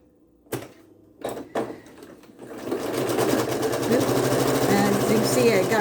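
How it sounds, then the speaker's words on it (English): A sewing machine stitches pieced quilt triangle squares together: a few soft knocks and taps come first, then a steady, fast mechanical whirr runs close and loud until the end. "I just come and I sew those together"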